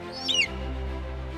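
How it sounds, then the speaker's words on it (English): A single brief, high, descending whistled cry from an eagle sounds out on Campobello Island near Liberty Point, followed by a low, steady outdoor rumble. "There is an eagle here somewhere. I can hear him."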